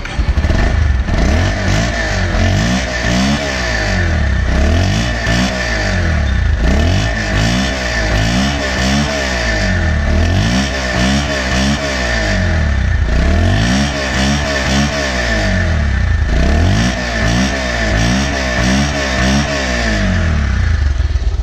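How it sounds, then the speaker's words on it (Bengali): A blue Bajaj Pulsar 150cc ABS motorcycle, nearly new with 535 km on it, idles and revs in a loud, steady engine drone, the throttle rising and falling in regular waves, heard close with no talk. "দেখতে পালেন বাইকটির সাউন্ড,"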